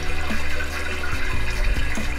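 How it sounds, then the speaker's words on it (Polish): Water rushes from a hose into a camper van's water tank, a continuous close gushing and splashing fill without any talk. "trzeba czekać i słuchać, aż się woda zacznie wylewać"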